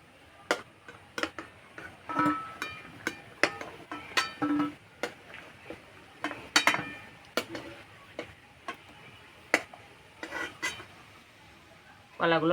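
Boiled raw green bananas lifted out of a pot with a utensil, giving a series of sharp, irregular clinks and knocks against metal with soft wet handling between them, close and fairly quiet.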